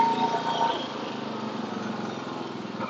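An engine drops back to a steady idle, a faint, even mechanical drone heard through a noise-cancelling headset, with a brief tone near the start.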